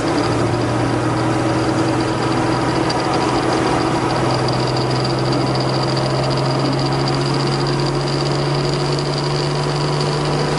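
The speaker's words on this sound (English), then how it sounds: "if I let go, a little bit of a rattle sound. And if I press the gas," A 1968 MGC engine runs steadily with a persistent buzzing rattle from the shift lever, loud and continuous, with no clear change in engine speed and no talking.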